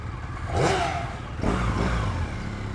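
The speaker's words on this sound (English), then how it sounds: "Oh, and that is a very nice new motorcycle." Motorcycles roar past one after another, engines rising and fading as they pass nearby over a constant background rumble.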